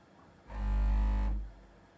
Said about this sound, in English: do you want to disable that feature which violently vibrates the whole printer